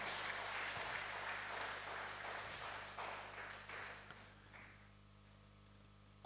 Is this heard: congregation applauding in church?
yes